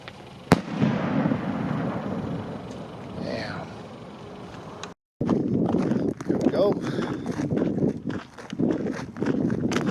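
A homemade BSR rocket firework goes off outdoors with a sharp crack, then a rushing hiss. Voices talk around it, and more pops and shuffling footsteps follow after a brief dropout.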